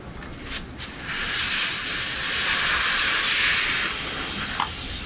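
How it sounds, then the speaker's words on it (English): Air hisses steadily out of the valve of an inner tube on a Lectric XP 1.0 ST e-bike as it deflates, a close, loud, continuous rushing that swells and then holds. "Now I'm going to deflate the inner tube."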